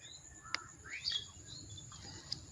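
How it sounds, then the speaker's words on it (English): Several birds chirping and calling outdoors in an afternoon natural area, with a sharp close call standing out against softer, more distant tweets over a low background rumble. "here is many beautiful bird sound."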